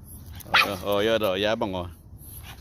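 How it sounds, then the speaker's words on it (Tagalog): A pet dog whines and whimpers in a drawn-out, wavering cry up close, while a person talks over it in a casual voice. "May aso eh."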